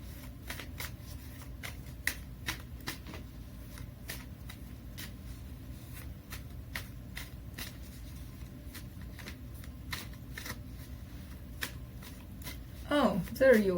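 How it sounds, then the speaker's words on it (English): A tarot deck shuffled by hand during a reading, then cards pulled, a continuous patter of soft riffling clicks and light slaps, close and quiet, with a voice briefly rising at the very end. "So let me pull some cards from the universe."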